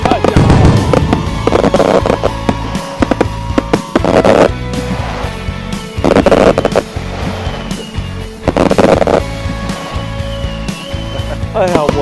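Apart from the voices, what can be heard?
fireworks show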